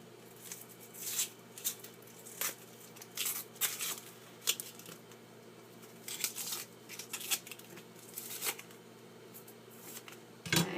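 An onion being peeled by hand, papery skin crackling and tearing in short close bursts with brief pauses, ending in a louder knock.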